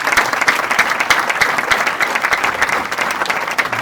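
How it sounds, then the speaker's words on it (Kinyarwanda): Steady, loud applause from a church congregation at a Sunday service, dense clapping sustained throughout with no pauses. "Dukomere Imana amashyi."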